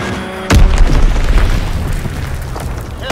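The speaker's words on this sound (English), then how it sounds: "Dropping Fritz X bomb." A Fritz X bomb explodes in a WW2 shooter game: one loud, deep boom that hits sharply, then rumbles and slowly fades, with no talking.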